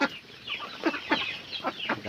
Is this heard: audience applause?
no